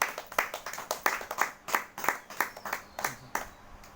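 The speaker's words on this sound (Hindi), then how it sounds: "इसलिए प्रभु का जोरदार ताली से धन्यवाद।" A church congregation claps in thanks during a healing prayer gathering, a run of roughly a dozen sharp, evenly spaced claps at a steady moderate pace, fairly close and clear.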